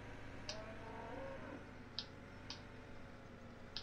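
Cows on a dairy farm in Farming Simulator 17, lowing faintly in the distance under a steady game ambience, with a few sharp clicking ticks scattered through and no voices.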